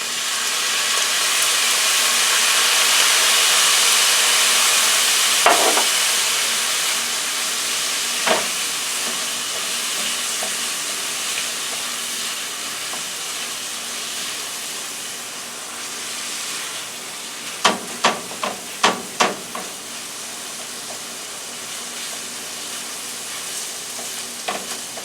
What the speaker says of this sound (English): I'm going to put the shrimp and onions in. And now let's add our soy sauce.